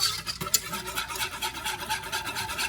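A whisk scrapes rapidly and rhythmically through Alfredo sauce made with heavy cream in a pot, giving a steady close-up rasping and rubbing sound with no voices.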